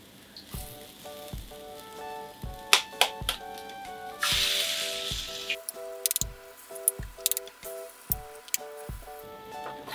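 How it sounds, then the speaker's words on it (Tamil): Eggs are cracked and poured into a pan, giving a sharp crack and a wet splash that rises into a steady sizzle as they hit the hot oil. A soft rhythmic ticking runs throughout, and it is all close. "இப்போ முட்டையை உடச்சி ஊற்றிக்கலாம்."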